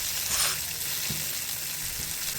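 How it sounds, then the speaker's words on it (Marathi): Peanuts and spices frying in oil for a Varhadi-style fresh red chili thecha, giving a steady, even sizzling hiss with a few soft low bumps, close up and uninterrupted. "शेंगदाणे सुद्धा व्यवस्थित भाजायचे आहे कच्चे राहायला नको तेलात व्यवस्थित फ्राय करून घेऊया या सगळ्या गोष्टी"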